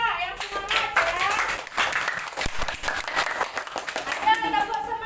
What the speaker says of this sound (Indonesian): Kasih tepuk tangan untuk kelompok 3 yang semangat ya.